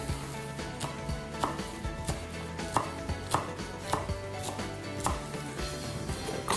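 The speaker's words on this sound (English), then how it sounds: "And just rock your knife back and forth across it a few times." A knife rocks back and forth through a bunch of Italian flat leaf parsley on a cutting board, making crisp, quick, regular chopping taps up close with no voices.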